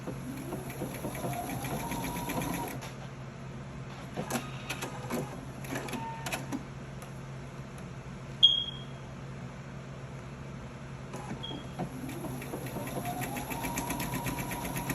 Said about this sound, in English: And you're going to sew all the way around.